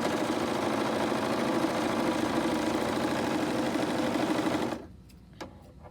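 A Husqvarna Viking Huskylock S21 serger stitches knit fabric with a fast, steady mechanical whirr and chatter at close range, then stops abruptly, leaving near silence with a few faint clicks.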